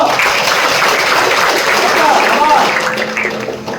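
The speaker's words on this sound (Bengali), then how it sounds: "জোরে জোরে তালি হবে" An audience claps loudly together at a motivational talk for West Bengal Police exam candidates. The applause forms a dense, continuous clatter, close and sustained, fading slightly at the end, with voices mixed in.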